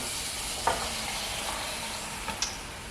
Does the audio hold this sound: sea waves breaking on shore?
no